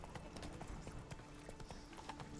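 Horse hooves in the Witcher 3 video game, a brisk rhythmic clip-clop of a galloping horse over game ambience, steady and fairly close throughout.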